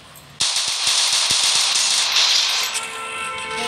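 Rapid gunfire from a Free Fire Clash Squad match, a dense burst of sharp repeated shots over a loud, continuous game sound bed, fairly near and steady for several seconds.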